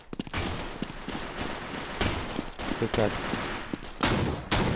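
Rapid automatic gunfire bursts in a mobile first-person shooter game, loud and close, coming in several dense volleys broken by brief pauses, with someone briefly speaking over them.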